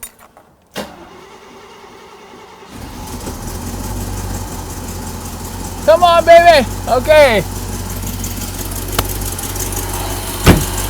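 A poorly running car engine idles steadily with a low rumble after a short start, while a person mutters a few words over it.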